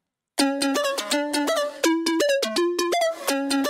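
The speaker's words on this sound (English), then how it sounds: "it's plucking through that multi-triangle, which sounds like this" A bright plucky synth, plucking through a multi-triangle oscillator, plays a quick melody of short, decaying notes that step up and down in pitch, with no voices.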